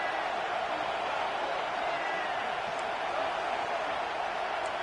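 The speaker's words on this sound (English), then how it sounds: "This crowd ready to make its presence known." A football stadium crowd at a Georgia versus Florida game produces a steady, distant roar that holds at an even level, with a commentator's voice over it.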